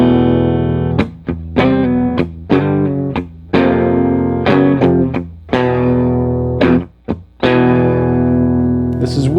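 Electric guitar played through the clean channel of a Mesa Boogie F100 amp with no effects on, a run of loud, bright strummed chords with short gaps between them, no talking.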